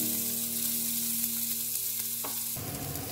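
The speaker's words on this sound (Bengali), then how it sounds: "পেঁয়াজটা দিয়ে দিচ্ছি, দিয়ে এটা আমি একটু ভেজে নেব।" Chopped onion sizzles steadily in hot oil in a pan while preparing matar paneer, a continuous close frying hiss with a steady hum beneath, then a sharper clatter of stirring near the end.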